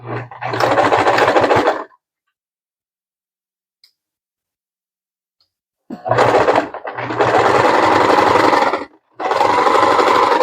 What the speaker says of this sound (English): I'm going to sew right over the first line I did.